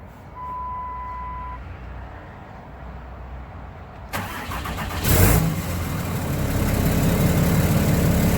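A cold 2008 Cummins 6.7L diesel truck with no exhaust cranks and fires at about four seconds, flaring loudly before settling into a raw, steady, open-pipe idle up close.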